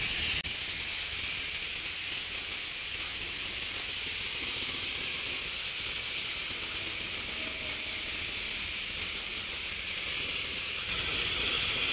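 A steady, loud hiss of pressurized rinse spray at a car wash runs continuously and close, with no talk over it.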